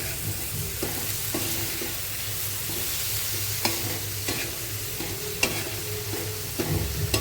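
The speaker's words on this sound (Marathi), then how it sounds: "आता हे याच्यात मी हे शिंपलीचे गोले टाकते मस्त असं मिक्स करून घ्यायचं" Clams are stirred into a soft onion and tomato masala in a pan. Sizzling and several distinct scraping strokes of the spoon against the pan are heard at close range, and no voices are present.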